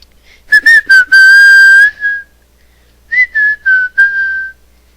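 Someone whistles a wrestling entrance theme, a bright, close tune in two short phrases separated by a pause, alone without any talking.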